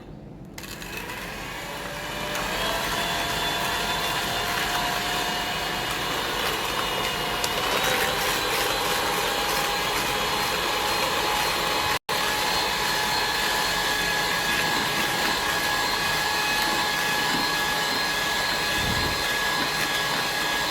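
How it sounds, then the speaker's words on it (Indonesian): Electric mixer beating eggs and sugar, a steady whirring motor drone running continuously with a slight pitch shift and one brief cut. "Nah, kita akan kocok telur dan gula hingga putih ya."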